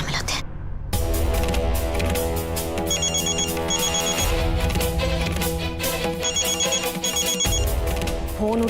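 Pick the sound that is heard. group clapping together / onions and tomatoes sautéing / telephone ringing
telephone ringing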